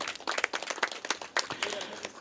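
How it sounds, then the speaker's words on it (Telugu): An audience claps together at a meditation yajna at the Bhimakhanda Shaiva temple site. The applause is dense and ongoing, moderately close, with a voice speaking loudly over it. "గట్టిగా చప్పట్లు కొడదాం మన యజ్ఞానికి."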